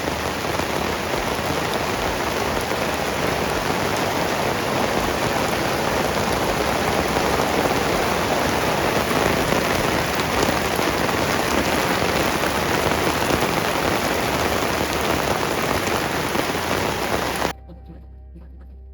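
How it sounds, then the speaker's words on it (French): Heavy tropical rain in Ecuador pours down in a loud, unbroken hiss of close drops for most of the stretch, then cuts off abruptly near the end. "La pluie elle fait pas semblant"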